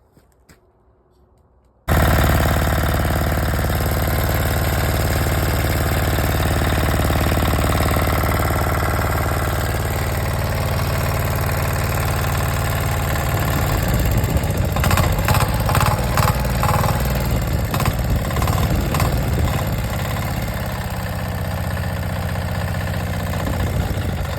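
Rebuilt 186 diesel engine running after a major overhaul, starting abruptly and then settling into a loud, steady close-up chug, with light rhythmic knocking audible over the idle partway through.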